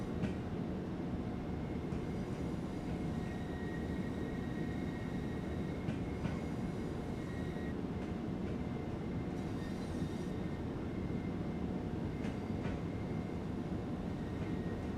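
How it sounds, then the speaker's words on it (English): A Class 377 electric train rolls slowly through a train wash in a train simulator game, producing a constant low rumble with faint high squeals and occasional clunks throughout. "Going through the train wash."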